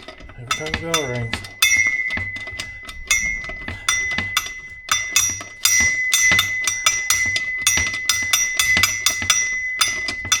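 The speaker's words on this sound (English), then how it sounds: "Every time the bell rings." A small bell rings repeatedly in a garage during a 2006 Chevy Silverado brake line job, bright metallic dings recurring in quick uneven bursts over about ten seconds, with a brief low tone at the start.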